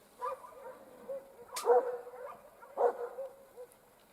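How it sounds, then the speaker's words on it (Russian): Several dogs bark outdoors in a frosty, windless village, with a few separate bursts of barking and yips at moderate distance against a quiet background. "Собаки лают."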